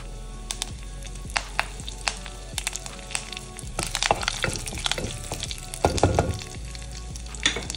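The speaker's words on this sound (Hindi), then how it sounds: "इसके अंदर हम डालेंगे थोड़े से कड़ी पत्ता" Curry leaves and cumin seeds sizzle and crackle in hot mustard oil in a pan, a close, steady frying hiss with sharp pops scattered throughout and a busier burst near the end, no voices.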